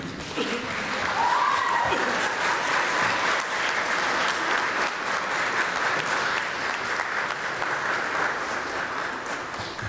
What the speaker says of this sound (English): Graduates, I invite you to stand, turn, and applaud your family and friends in appreciation.